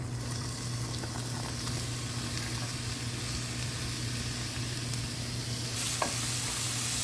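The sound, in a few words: onions, green chili and ginger sautéing in coconut oil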